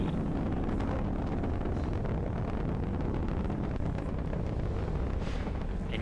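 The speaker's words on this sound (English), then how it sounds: "you saw Falcon 9 lift off in a beautifully clear shot there at 4:14 p.m. Eastern" A Falcon 9 rocket lifts off in a continuous, distant, low rumbling roar, steady and broadband, with a windy, muffled quality.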